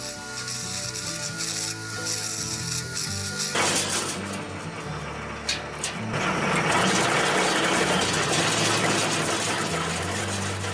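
An Arba R150 compact machine with a 1,000 rpm cutting system chews through thick logs, giving a loud, continuous mechanical grinding and clattering that grows heavier partway through.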